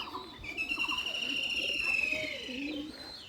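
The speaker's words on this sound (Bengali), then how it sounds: "দেখুন উপরে কীভাবে ডাকাডাকি করতেছে কবুতর" Pigeons cooing nearby in low rolling calls, with a high whistling tone and some voices in the background.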